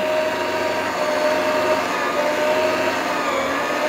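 A Popeil pasta machine runs steadily, its motor a loud continuous hum as the paddles mix and push the dough, with no pauses or talking.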